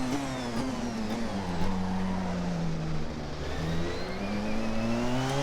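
The Porsche 919 hybrid race car in Assetto Corsa at Spa holds a loud, steady engine drone whose pitch dips then climbs as it pulls hard, with no voices over it.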